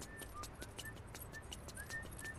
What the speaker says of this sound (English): He's whistling the theme.